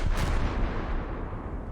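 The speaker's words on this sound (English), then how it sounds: "let's see if we can launch some torpedoes at these guys" Torpedoes fired at aircraft carriers in a naval video game come as a dense, loud rumbling blast with heavy low-end weight, sustained and unbroken, with no voices.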